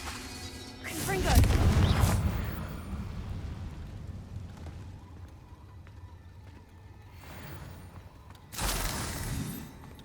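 Fiery blasting spell explosions from the Hogwarts Legacy video game, two heavy booming bursts with crackling tails separated by a stretch of quieter ambient game sound.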